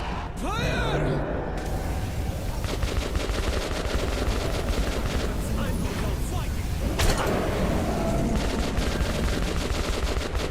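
Gunfire in Metro, with bursts of automatic shots crackling through a dense, noisy mix of ambience and game effects at moderate loudness, while voices talk over the action.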